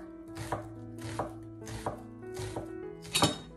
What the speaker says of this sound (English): Cut and remove the outer layer of an onion and slice the onion thinly.